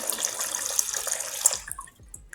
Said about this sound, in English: now you can see it is pumping water